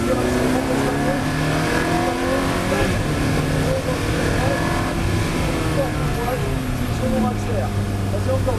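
A Ferrari F430 Challenge GT4 race car's engine drones and revs steadily as the driver accelerates, loud and continuous with shifting pitch throughout.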